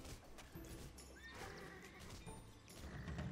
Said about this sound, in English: Manfestus, save that horse! Defend the horse!